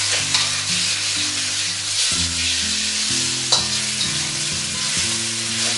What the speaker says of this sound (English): you're going to push the beef into the hot oil. You're going to stir fry that up